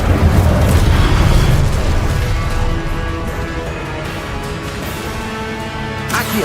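A fire spell cast in Hogwarts Legacy bursts out as a loud, dense whoosh and rumble that swells at once and holds steady for several seconds, with crackling debris and a fresh flare near the end.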